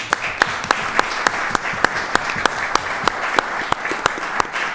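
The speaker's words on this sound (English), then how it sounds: "we should wrap this up with a big round of applause to everyone who has participated" Applause from the audience at a round-table forum, a moderate crowd clapping steadily with distinct sharp individual claps standing out, fairly close and clear with no talking.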